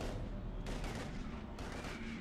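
Sustained gunfire in the video game Mass Effect 3, a dense burst of shots blending into continuous loud crackle for a couple of seconds.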